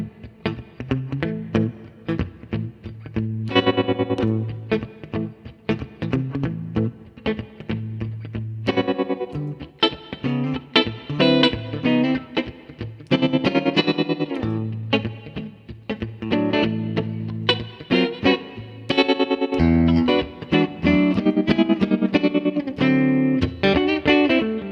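Electric guitar through an Ibanez Tremolo Mini pedal plays choppy accented chords with a pulsing, Leslie-like wobble, bursts of rhythmic strumming broken by short pauses, loud and alone.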